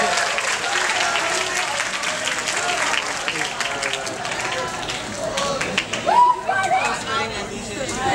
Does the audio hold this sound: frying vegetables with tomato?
no